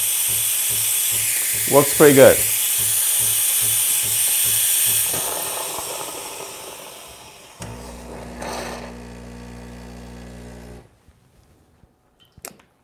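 A Breville Barista Pro espresso machine's steam wand hisses loudly and steadily after a few clicks and gurgles, then tapers off, followed by a lower mechanical hum that cuts out; someone speaks briefly.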